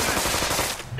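Sustained rapid gunfire in the South Park video game The Stick of Truth, a dense, loud burst of automatic shots that carries on for the whole second before easing slightly near the end.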